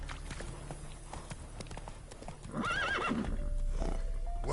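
Roach the horse in The Witcher video game neighs with a loud wavering whinny after a few clip-clop hoofbeats, with a low rumble and game sounds underneath.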